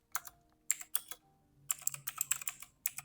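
Quick clusters of crisp keystrokes on a computer keyboard, close and quiet, typed in short bursts with small pauses between words.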